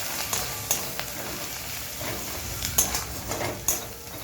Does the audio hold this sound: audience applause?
no